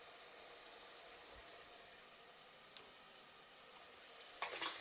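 Tomato and onion sizzle steadily in a pan while cooking down for a crab masala, a quiet continuous frying hiss with a few soft clicks and a brief stir near the end.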